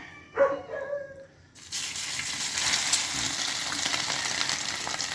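Saba bananas frying in hot oil, a steady loud sizzle that begins abruptly after a brief clatter and then holds evenly to the end.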